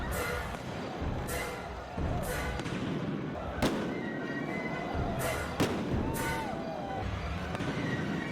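Fireworks mortars and Roman candles go off in the Horizon RP video game, sharp booming bursts every second or so over a dense crackling bed, loud and continuous, with faint crowd noise.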